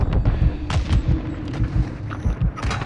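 Stun grenade going off in a multiplayer shooter video game, heard among a loud, busy mix of repeated booms and gunfire-like bursts across the whole moment.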